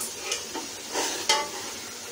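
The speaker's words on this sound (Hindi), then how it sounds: "दो से तीन मिनट के लिए इसको अच्छी तरह से भून लेंगे। मसाला अच्छा सा मेरा फ्राई हो गया है" Tomato masala frying and being stirred in a pan for bhindi-style bharta, a steady sizzle with several scraping stirs of a spoon against the pan, close and fairly loud, no talking.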